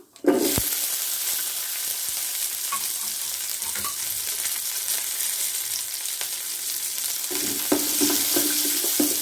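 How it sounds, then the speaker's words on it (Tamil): Bitter gourd leaves and shallots sautéing in a pan over a medium flame give a steady, close sizzle that runs the whole time. Occasional light scrapes and stirring knocks sit on top of it, and no one speaks. "அடுப்பை மீடியம் ஃப்ளேம்லேயே வச்சு லைட்டாக வதக்கிக்குங்க."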